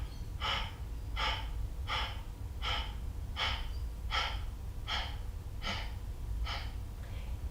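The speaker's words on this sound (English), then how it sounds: "Inhaling. And exhaling." Slow, steady yoga breathing during a male fertility practice, nine or ten even breaths spaced under a second apart, close and soft with a faint low background hum and no talking.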